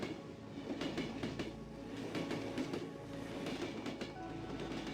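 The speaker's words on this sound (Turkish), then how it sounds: "Evet tren." A train in the horror game Cry of Fear passes close by, a heavy continuous rumble with repeated metallic clicks and clacks from the wheels, steady for several seconds.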